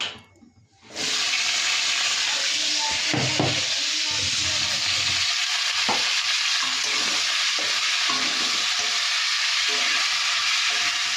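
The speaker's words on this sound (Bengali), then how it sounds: "এখন কড়াইয়ের মধ্যে তেল দিয়ে দিয়েছি ফুলকপি আলু ভাজা করব" Cauliflower and potato frying in hot oil in a home kitchen wok, starting with a brief quiet moment, then a loud, continuous sizzle and hiss, punctuated by a few stirring clatters.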